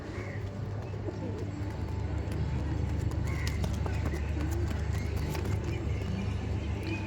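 Madras pigeons in a loft coo steadily with scattered calls and wing flutters, a dense birdy chorus over low background rumble, with no talking.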